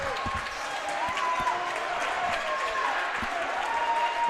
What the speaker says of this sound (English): And the Eagles crowd is loving it.